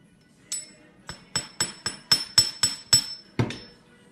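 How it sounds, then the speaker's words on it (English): A small hammer taps jewelry wire on a metal bench block, about ten sharp ringing metallic strikes in a quick, slightly uneven rhythm, close and clear. "I always try to put everything on the bench block, give it a little hammer"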